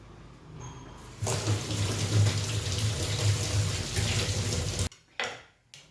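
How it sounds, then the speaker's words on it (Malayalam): A tap runs hard as something is washed under it, a steady close splashing rush that starts abruptly, holds for several seconds, then cuts off, leaving a few drips and brief faint handling noises. "ഞാൻ എന്തായാലും ഇതൊന്ന് കഴുകുന്നുണ്ട്"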